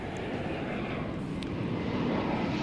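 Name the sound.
airplane at DFW Airport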